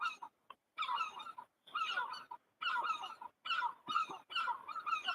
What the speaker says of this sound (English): what the hell's wrong with these bloody seagulls?